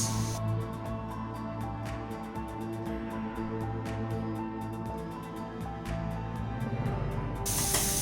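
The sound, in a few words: onion strips sautéing in a pan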